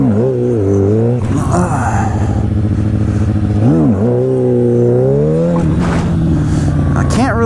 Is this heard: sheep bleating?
no